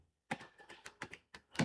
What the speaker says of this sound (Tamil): அடுத்தது மதுரைன்னு டைப் பண்ணுவோம்.